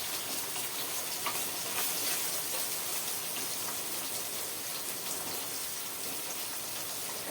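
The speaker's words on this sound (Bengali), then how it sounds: "বৃষ্টি হচ্ছে" Rain falls continuously outside a house, a steady broad hiss with scattered faint drip ticks and no speech.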